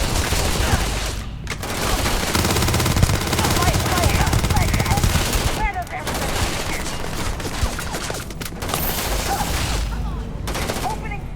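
Rapid gunfire bursts in the Starfield video game, dense overlapping shots in a continuous fusillade with brief gaps, loud and close.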